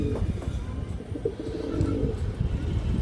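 A colorful pair of large silver khaki pigeons coos steadily at close range, low throaty rumbles repeating one after another in a continuous murmur with no voices over them.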